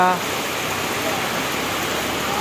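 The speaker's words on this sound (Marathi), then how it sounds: "जोरदार पावसाला सुरुवात झालेली आहे।" Heavy monsoon rain pouring down steadily over a roadside market area in Junnar, a dense, continuous broadband roar heard up close with no break.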